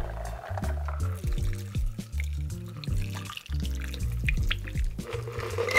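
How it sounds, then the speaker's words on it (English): A cocktail is poured through a Hawthorne strainer into a glass over ice, giving a close, gurgling liquid stream with small drips and clinks, no voices. "throw your Hawthorne strainer on there and pour it on top."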